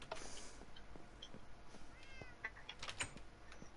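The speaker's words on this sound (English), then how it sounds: "I can hear your cats from in here" Domestic cats meow several times, the calls faint and distant over a low background hum, with no talking.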